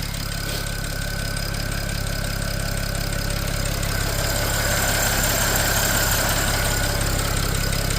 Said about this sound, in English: Those injectors are loud.